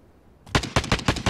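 Rapid automatic gunfire from a shooter video game bursts in after a brief silence, a loud, evenly spaced string of sharp shots with no voices.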